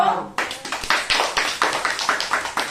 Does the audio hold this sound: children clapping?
yes